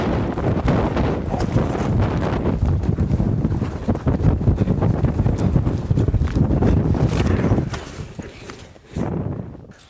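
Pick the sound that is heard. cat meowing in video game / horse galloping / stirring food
horse galloping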